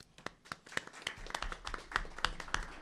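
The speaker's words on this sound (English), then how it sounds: "We'll give them a round of applause." Faint, scattered clapping from a small audience at a school board meeting honouring student representatives: a loose run of distinct individual claps spread across a few seconds, fairly distant.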